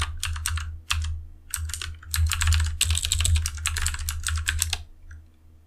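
Rapid typing on a computer keyboard while entering a tar command to unzip a file, close and crisp clicking in quick bursts with brief pauses, no voices.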